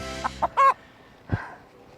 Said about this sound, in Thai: นั่นไก่บ้านผมเองครับ